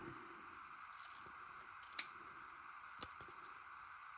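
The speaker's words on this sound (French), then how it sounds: "Je vais venir découper ça finalement et l'utiliser autrement." Scissors snip through paper for a collage, with two crisp, quiet cuts spaced about a second apart over a faint, steady background hum.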